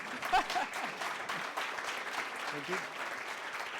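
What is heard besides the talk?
audience applause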